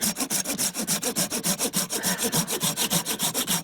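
A hand saw cuts through wood in quick, even back-and-forth strokes, about twenty rasping passes in a steady rhythm, close up and with no voices.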